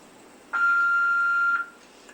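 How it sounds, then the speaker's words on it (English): An answering machine gives a single steady electronic beep, lasting about a second, clean and clear against a quiet background before a voice message. "To leave a voice message, please speak after the beep."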